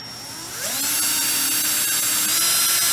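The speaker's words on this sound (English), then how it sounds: "we see where the holes are and we drill the hole." A power drill revs up sharply and then holds a loud, steady high-pitched whine as it bores a hole close by while dually fenders are installed on a truck.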